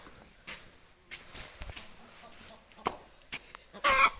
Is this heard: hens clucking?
yes